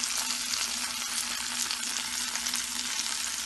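Beef kofta patties fry in oil in a pan, a steady close sizzle and crackle that carries on without pause.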